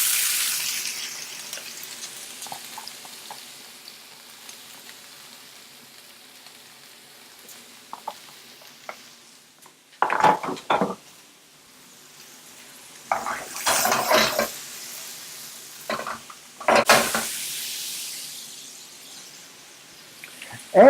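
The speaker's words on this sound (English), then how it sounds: "Now we can put everything into this frying pan." Vegetables for a couscous salad cooking in a frying pan, with bursts of sizzling and clattering of pan and utensils being stirred, loud and close, between quieter stretches.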